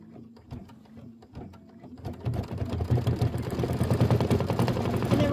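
An embroidery machine stitches a satin stitch outline on a quilted bench pillow block, starting quietly and then building into a rapid, rhythmic mechanical whir that grows louder and stays close.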